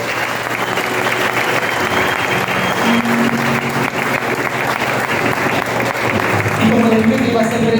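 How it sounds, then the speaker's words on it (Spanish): A church congregation applauds continuously, a loud, dense roar of clapping from a crowd that fills the whole space, with faint voices under it. "Denle un aplauso a mi padre"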